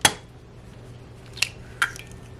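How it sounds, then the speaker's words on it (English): A large egg is cracked against a bowl for einkorn crepe batter: a sharp close tap at the start, then two lighter clicks of shell on the rim in a quiet kitchen. "I'm going to add an egg to this bowl"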